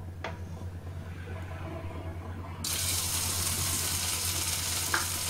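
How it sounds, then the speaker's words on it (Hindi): Taro root (arbi) pieces going into hot oil in a wok: a low background hiss jumps partway through into a loud, steady broadband sizzle that continues to the end, with a soft clink near the close. "तेल हमारा गरम हो चुका है, अब हम इसमें अरबी डाल देंगे।"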